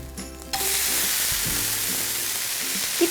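A vrat dosa with potato and paneer cooks in a hot pan, giving a steady, close sizzle and hiss that runs throughout without pause.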